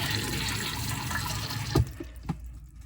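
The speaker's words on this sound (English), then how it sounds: "So we'll go ahead and turn the water back on. Now if we put the water in there." Water rushing into a Dometic 310 RV toilet bowl, a steady, close filling wash with a few gurgling splashes and clunks near the end as the flow tapers off.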